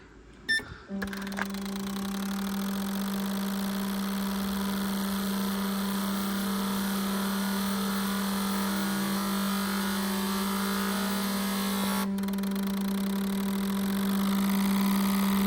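Fuel injectors from a Buick Grand National on a flow test bench run through an acceleration test cycle, giving a steady loud electric hum with a rising, whining buzz that holds throughout with no talk.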